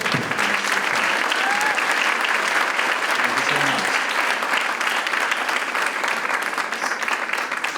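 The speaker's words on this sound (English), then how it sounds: "if you could respond by the way of a good applause for all of you" A large audience applauds steadily and warmly at an Arangetram, a classical Indian dance debut recital, with sustained, dense clapping throughout while a voice briefly speaks over it.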